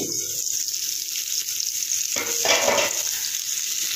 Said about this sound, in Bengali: পটল একবার উল্টে দিয়েছি